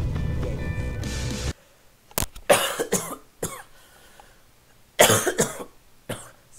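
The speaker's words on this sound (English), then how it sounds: "Sorry about that cough" A brief burst of music cuts off, followed by several harsh coughs in quick succession, close and loud, with short pauses between fits.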